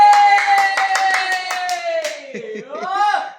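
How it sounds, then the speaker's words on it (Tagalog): A few people clap rhythmically, about a dozen quick claps, close by under a woman's sustained, cheering voice at home. "Palakpak ni Daddy!"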